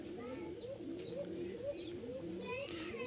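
Pigeons of a Rajshahi flying breed coo in soft, overlapping, rolling calls that keep on throughout. A few faint chirps sound in the background and the setting is fairly quiet.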